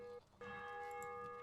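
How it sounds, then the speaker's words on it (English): A church bell in the DayZ video game rings with a sustained, resonant tone, briefly dipping before sounding again fuller and steady, with no talk over it. "as you can hear, someone's ringing the church bell"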